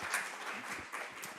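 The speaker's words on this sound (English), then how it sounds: "give our panelists a good round of applause" Audience applause for a panel of speakers at a diabetes wellness event: a steady, dense wash of many hands clapping throughout, fairly soft and even, with no talking.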